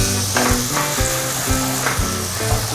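Garlic sizzles loudly in hot oil in a pan with ginger for Bicol Express fish, a constant frying crackle broken by regular stirring scrapes about every half second, close up and without talk.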